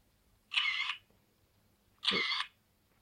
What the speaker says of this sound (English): it only makes the noise of camera but does not take shots